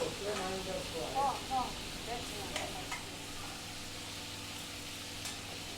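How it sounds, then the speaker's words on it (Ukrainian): Chicken sizzles and crackles in a hot pan, a steady frying hiss with a few stirring clatters early on, fading to a quieter sizzle. "Курку також просмажуємо з обох боків."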